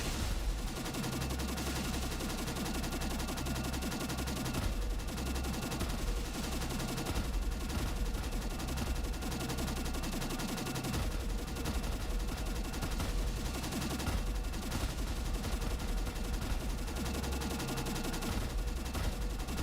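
Dense, continuous bursts of gunfire and rapid shots fill the scene in the VR game Of Lies and Rain, loud and steady with almost no talking.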